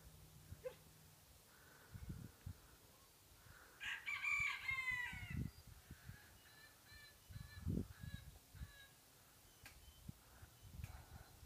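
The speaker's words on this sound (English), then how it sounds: "Chickens making noise." A rooster crows faintly in the distance while free-range chickens cluck and murmur nearby, amid low rustling outdoor noise.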